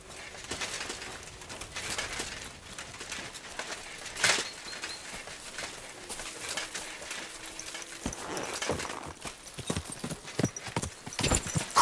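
Horse hooves clip-clop steadily in the medieval video game Kingdom Come Deliverance 2, a moderately close rhythmic clatter that runs throughout, with occasional sharper knocks and faint ambient birds.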